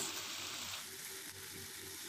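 Fried satay sizzles in a pan with sweet soy sauce, a steady, close crackle with faint stirring underneath and no voices.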